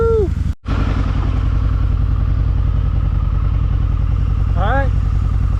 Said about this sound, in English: as you saw, the VROD fired up